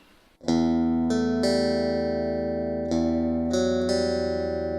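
An electric guitar through a Mooer GE200 with EQ applied rings out sustained chords, struck several times and left to ring, with a clear, shaped tone.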